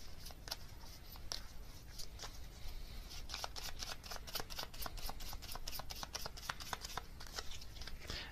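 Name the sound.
tarot cards being shuffled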